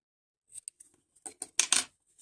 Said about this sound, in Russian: Обрезаю ниточку